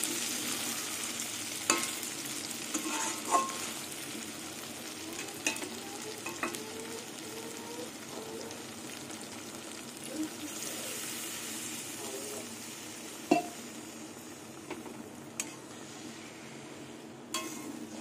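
A spatula stirs shing and pakal fish with spices and added water in a pan. Scattered scrapes and clicks sound over a quiet, low sizzle, with no talking.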